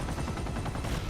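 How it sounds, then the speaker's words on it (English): Dense, continuous rapid gunfire in an Uncharted video game, loud and close, with bursts overlapping into a constant rattling barrage and no talking. "With gunfire spraying all around them"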